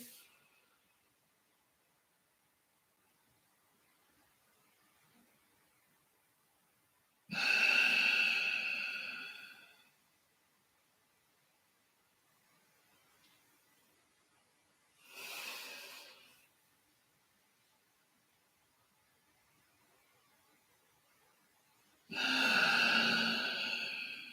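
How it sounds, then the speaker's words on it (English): Slow, deep breaths during a yoga session come in three separate breathy swells spaced several seconds apart, quiet and close, with near silence between them and no talking. "Big breath in."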